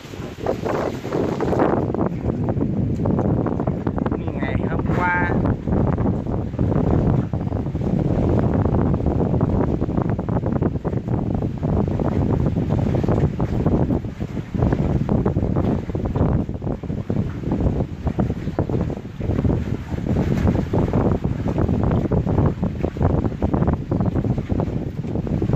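Strong wind roars steadily across the microphone on a river during a fishing trip in rough weather, with waves and water churning beneath. The loud, unbroken rush lasts throughout.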